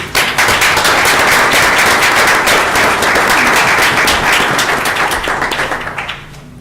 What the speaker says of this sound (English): if you'd join me in giving a round of applause to some great representatives of FISD